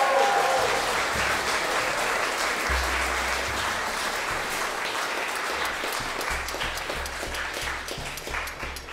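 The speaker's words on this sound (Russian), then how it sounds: "Давайте им похлопаем." Concert audience at a live orchestral show in the Scriabin Museum applauding the arrangers, a dense, steady wash of clapping from many hands that holds throughout and slowly thins toward the end.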